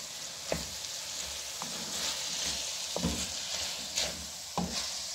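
Julienned chillies fry with minced meat keema in a pan, a steady close sizzle broken by several sharp spatula knocks at irregular intervals.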